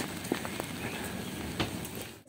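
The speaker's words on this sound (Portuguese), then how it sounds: "tá chovendo" Rain falls outdoors in Milan as a soft, steady patter with scattered brief drips, fairly faint and close throughout the short stretch.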